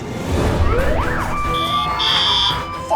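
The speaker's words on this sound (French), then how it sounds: "L'alarme incendie." A shrill electronic fire alarm sounds in steady high bursts, with a rising wail in between, loud and close with no talking, in a restaurant kitchen.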